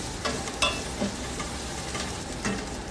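A pan of vegetable biryani masala with spices and tomatoes is stirred, giving a steady sizzle with a few scraping clinks of a spoon against the pan, close and fairly loud, with no voice.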